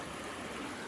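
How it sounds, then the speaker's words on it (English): A shallow live creek near Sedona and Flagstaff flows with a constant, soft, broadband rushing wash, even and unbroken, with no voices. "we really up in a live creek down here"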